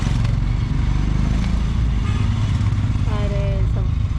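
Bikers' motorcycles roll up on a mountain road near Nubra Valley in Ladakh, a continuous low engine rumble under people talking nearby, with a short tonal blare near the end.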